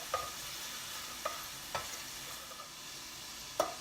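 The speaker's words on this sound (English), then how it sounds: "Let that alcohol cook off." Brandy sizzling quietly in a pan as its alcohol cooks off during deglazing for steak Diane, a soft constant hiss broken by a few sharp pops and the clink of a utensil against the pan.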